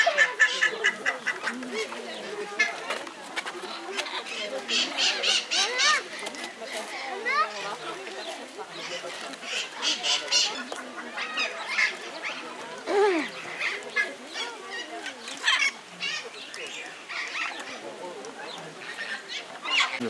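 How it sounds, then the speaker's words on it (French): Ducks and ducklings at a zoo aviary, giving scattered quacks and honking calls amid crowd chatter and children's voices, with people talking nearby throughout. "Il y a des petits canards là,"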